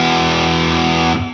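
A heavily distorted electric guitar plays a short sustained phrase from a riff, loud and close, ending with a quick note change and a choked stop.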